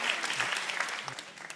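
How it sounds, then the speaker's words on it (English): An audience claps steadily for a guest's remarks on a talk show, the applause fairly loud and dense at first, then thinning slightly toward the end with no voices. "What are y'all clapping at?"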